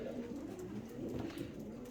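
Pigeons coo in a loft, a soft continuous murmur of low throaty calls heard faintly with no one speaking.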